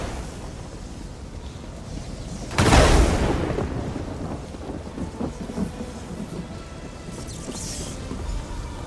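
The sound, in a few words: lightning spell thunder in Elder Scrolls Online video game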